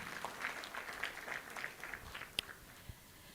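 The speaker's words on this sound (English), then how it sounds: "Another round of applause," Sparse, scattered hand claps from a conference audience in South Africa, fairly faint and uneven, a thin round of applause with a few sharper individual claps standing out near the end.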